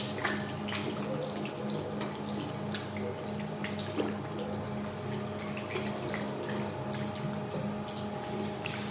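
Tap water runs steadily into a sink, a continuous moderate splashing with small drips and clatters, no voices.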